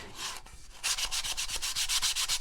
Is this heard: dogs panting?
no